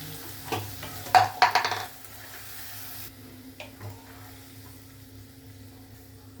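Mango pickle is stirred in a pan with the flame off: a burst of spoon clatter and scraping in the first two seconds, then only faint, sparse taps over quiet background.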